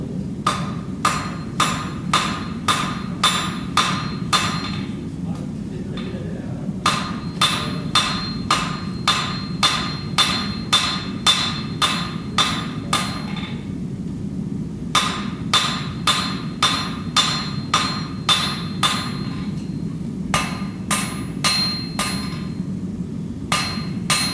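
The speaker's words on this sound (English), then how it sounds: "So we're working on the flat in terms of the hot chisel." A hammer rings on a hot chisel over hot metal at a blacksmith's forge, struck in steady rhythmic runs of loud metallic blows with short pauses between sets, over a low forge roar.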